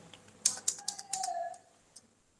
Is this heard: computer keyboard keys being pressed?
yes